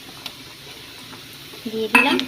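Onion frying in a pan with ginger garlic paste, quiet low sizzle with light stirring, then louder metal scrapes and clinks of a spatula toward the end, close by and without speech.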